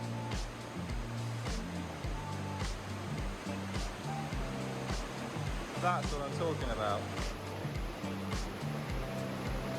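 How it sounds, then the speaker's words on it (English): An underground river rushes through the main streamway of Agen Allwedd cave in Wales, a steady broadband roar of flowing water that fills the space under excited voices talking close by. "we found the fucking river"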